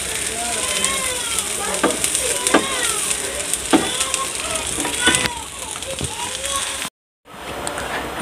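Drumstick (moringa) leaves frying and stirred in a pan over low heat for a fish mash, a steady close sizzle with scraping stir strokes, a voice talking over it, and a brief dropout near the end.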